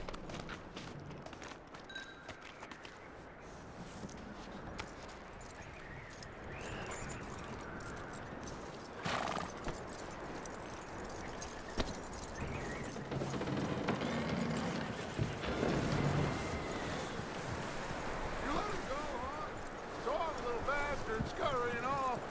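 Horse hooves clopping on ground in the Red Dead Redemption 2 video game, with steady footfalls, creaking tack and jangling gear under game ambience, plus a brief whinny-like call near the end.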